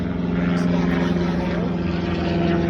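A propeller aircraft flies past at an event featuring the B-29 Superfortress FIFI, its loud, steady engine drone filling the air with no break.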